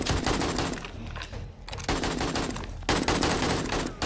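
Rapid gunfire during a horde night in the video game 7 Days to Die Alpha 20, loud dense bursts of automatic shots with brief pauses between volleys.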